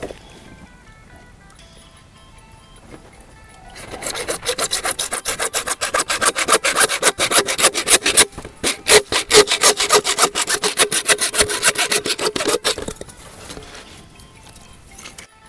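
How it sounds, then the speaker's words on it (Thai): Hand saw cutting through a plastic water pipe: quiet setup handling, then a burst of rapid, rhythmic back-and-forth rasping strokes lasting about nine seconds, close and loud, before tapering off. "อันนี้เราต้องเลื่อยก่อน"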